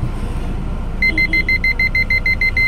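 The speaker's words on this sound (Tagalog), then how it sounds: "Dito nakalagay yung alarm nya mga boss." Reverse parking sensor alarm on a Toyota Hilux, a six-sensor unit, sounding a rapid run of loud, evenly spaced high beeps that ends in a continuous tone, over a low idling hum.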